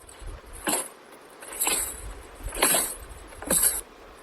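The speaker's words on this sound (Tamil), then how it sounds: "கொலுசு சத்தம் ரொம்ப ஹெவியா வருது" Anklet bells jingling in four distinct bursts about a second apart, light metallic shimmers over a quiet background with no talk.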